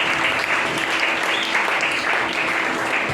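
A church congregation applauds in praise, dense and steady clapping filling the room throughout without a break.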